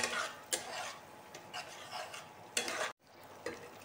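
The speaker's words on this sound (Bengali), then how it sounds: "টক দইটা দেওয়ার পর আমি আবার দু মিনিট মশলাটাকে কষাচ্ছি।" Masala with sour yogurt being stirred in a pan for a fish roe kalia, soft scraping strokes of a spoon against the pan over a faint sizzle, with several sharper scrapes and a brief silent gap near the end.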